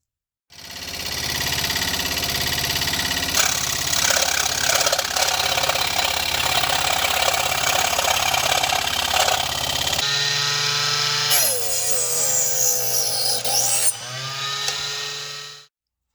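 Power saw cutting small wood pieces for a Sig Alien TaylorCraft 72 RC taildragger model airplane build in a workshop, a steady loud motor whine with rhythmic cutting pulses, then a higher shifting tone near the end.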